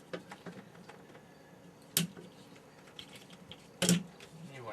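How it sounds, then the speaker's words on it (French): Small cutters snip through plastic tie wraps while dismantling a dome assembly, two sharp distinct clicks standing out over quiet handling noises. "Donc, on va couper des tie wraps avec des petits cutters."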